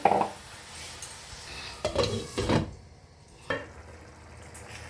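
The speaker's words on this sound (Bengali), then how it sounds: "এবার আমি ঢাকা দিয়ে দিচ্ছি এটা" Metal lid set onto a pot of masoor dal cooking on the stove, a few close clanks and scrapes over a faint simmering hiss, then quieter.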